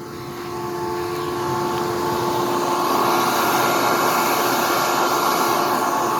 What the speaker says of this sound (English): this right here does the exhaust fans for the battery bank, because it's an air-cooled battery bank. So we'll turn that on